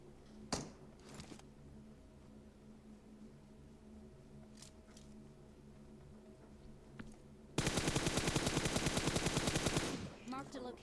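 Rapid automatic gunfire from a video game, a dense sustained burst of shots near the end after a quieter stretch with an isolated shot or two, loud and close over game background noise.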